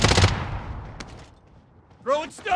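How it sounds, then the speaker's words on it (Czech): A short burst of video game gunfire as Harley Quinn shoots, sharp shots at the start fading out, followed by brief game sound effects. "A tady můžeme vidět Harley Quinn, jak už někoho střílí na vakantu."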